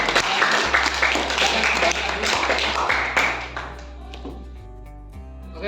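Clapping breaks out in a classroom after a student group closes its presentation, a dense patter of many hands that is loud at first, then gradually thins and fades toward the end.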